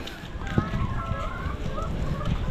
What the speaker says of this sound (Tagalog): Tingnan natin yung ating mga manok.